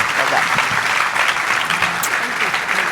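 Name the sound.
applause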